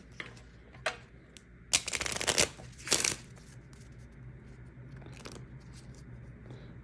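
A 30-card trading card game deck is riffled in a couple of quick bursts, crisp papery rattling close by, then soft handling noises fade into quiet room tone.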